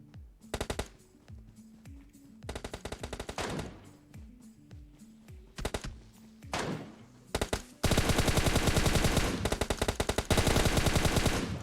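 Bursts of automatic gunfire from a PUBG Mobile match, several rapid volleys in the first half, then a sustained loud, dense barrage of shots through the final seconds.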